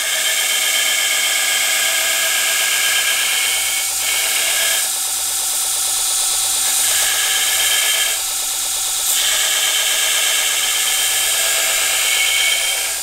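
Grinding and cutting a 3 mm Nilox steel bar into a knife blank gives a steady, loud, high-pitched whine. It runs continuously for the whole span with slight dips in pitch and load, and no one speaks.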